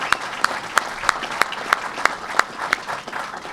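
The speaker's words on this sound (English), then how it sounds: "A round of applause for Governor Cuomo." A press-conference crowd applauds Governor Cuomo at an event for the New York Islanders' Belmont Park project, with a steady run of sharp, evenly spaced claps over a softer wash of clapping.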